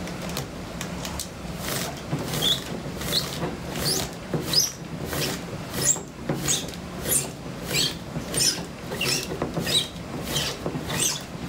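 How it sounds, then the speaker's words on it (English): Sausage netting is slid and stretched over a PVC tube fitted with a reducer, giving a close, steady series of rubbing and scraping swishes in repeated short strokes with no talk. "we take the netting, put it over the PVC like so"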